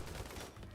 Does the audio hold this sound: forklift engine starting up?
no